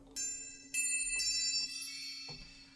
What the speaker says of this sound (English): Got some chimes.